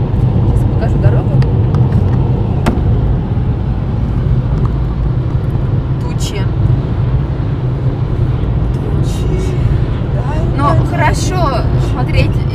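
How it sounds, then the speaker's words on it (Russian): A car rolls along a bumpy country road, heard from inside the cabin as a steady low rumble and road noise with small jolts throughout, no talk. "мы сейчас трясемся по дороге"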